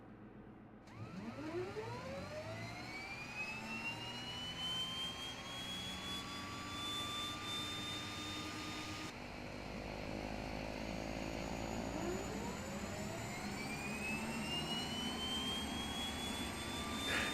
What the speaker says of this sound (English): starting engine number 1 on the left